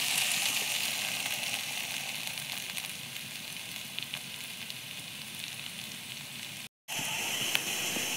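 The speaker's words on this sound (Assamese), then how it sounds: "ইফালে আলু ভাজি আছোঁ" Potatoes frying in a pan make a steady, close sizzle with a fine crackle that runs throughout, broken by a brief silent gap near the end before the sizzling resumes.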